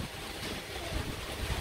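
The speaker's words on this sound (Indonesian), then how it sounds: "Ya, anginnya mulai banter." Strong wind gusts over floodwater during a flood in Banjarmasin, a broad steady roar with rumbling buffets against the microphone, moderately loud with no voices.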